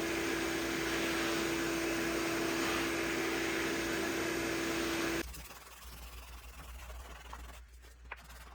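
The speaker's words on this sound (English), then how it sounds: "Notice as I'm vacuuming, I keep a finger in front of the vacuum tip." A vacuum cleaner nozzle run over a cabinet door during refinishing gives a steady, loud whine and airflow roar for about five seconds, then cuts off abruptly, leaving quieter scraping and handling noises.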